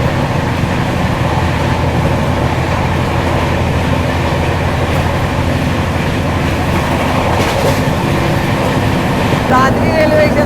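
The Gomti Express (12420) pulls out of Ghaziabad station with a steady, loud rumble and rhythmic clatter of rail cars, a continuous wash of train noise throughout.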